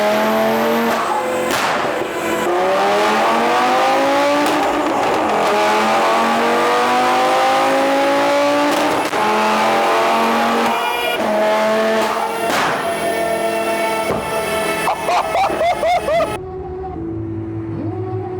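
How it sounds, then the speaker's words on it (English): A tuned car engine on a dyno revs hard and climbs through sustained high-rpm pulls, loud and close, with a couple of pops and a sudden cutoff near the end. "see if it can shoot some fat flames on the dyno"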